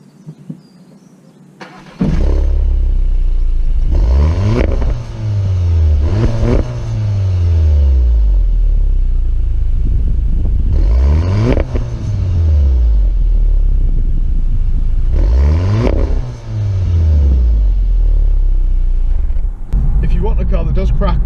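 A warm Audi TT Mark III 1.8 with a sport exhaust starts up and runs, settling into a deep, steady rumble with several rising and falling revs, loud and close throughout.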